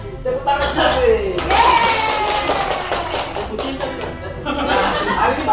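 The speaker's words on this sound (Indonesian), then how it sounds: "Tepuk tangan sih." Students in a training class clap their hands, a lively patter of claps mixed with voices and light laughter in the room.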